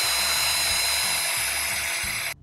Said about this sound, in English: So now I'm drilling a hole so that I can get a bolt in there and it'll stay put